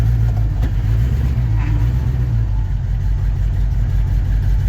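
A 1954 Chevy 3100 pickup truck's engine runs steadily on its first drive, a loud, close, low rumbling idle with a brief slight rev early on, and no talking.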